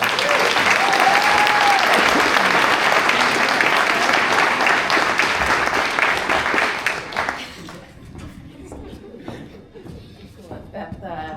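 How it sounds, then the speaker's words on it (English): Audience applause at a school district retirement and awards ceremony, a loud sustained wash of clapping that fades out after about seven seconds, followed by quieter room sound with a voice talking. "So one more great round of applause for Beth."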